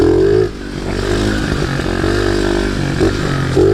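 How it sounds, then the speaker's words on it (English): A pit bike's small single-cylinder engine revs hard and steadily up close during a first dirt bike jump, loud and buzzing throughout with brief throttle dips. "I jumped a dirt bike for my first time."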